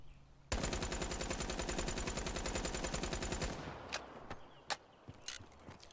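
In a video game recoil test, the Razorback gun fires one sustained rapid automatic burst lasting about three seconds, followed by a few isolated single shots and faint handling sounds.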